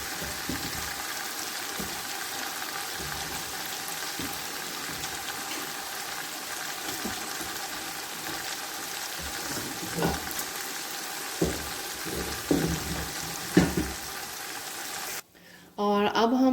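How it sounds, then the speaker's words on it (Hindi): Chicken sizzling in a tomato gravy for Balochi chicken tikka biryani, a steady frying hiss with occasional clinks and stirring sounds, ending abruptly. "अब हम इस ग्रेवी में चिकन इसके अंदर डाल रहे हैं"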